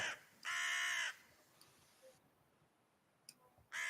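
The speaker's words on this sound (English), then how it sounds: "first you hear the first crow, then more near the river." A crow caws twice, loud and close, with a long quiet stretch of faint ambient noise and a few small clicks between the calls.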